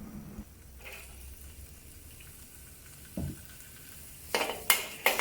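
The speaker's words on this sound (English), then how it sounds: "add some oil to the wok and start to stir fry the long beans and onion" Long beans and onion are stirred in hot oil in a wok, giving a soft continuous sizzle with scattered clinks and scrapes of a utensil against the pan that grow louder near the end.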